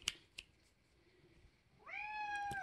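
A cat gives a drawn-out, rising meow near the end, after a couple of soft clicks and quiet room noise.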